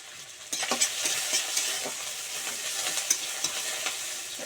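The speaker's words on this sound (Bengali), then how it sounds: "তো দেখো আমি ভালো করে নাড়াচাড়া করে দিচ্ছি আর দিয়ে দিলাম একটুখানি লবণ" Chopped onion frying in a pan with a little salt, being stirred: a continuous sizzle with repeated scraping strokes of a spatula, close and moderately loud, with no voices.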